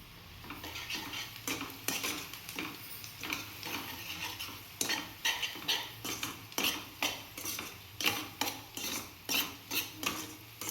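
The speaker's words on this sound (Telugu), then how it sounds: "ఒకసారి కలుపుకుందాం" Masala is stirred into an egg curry in a pan, a rhythmic run of metal spoon scrapes and clinks against the pan over a soft sizzle, speeding into quick regular strokes toward the end.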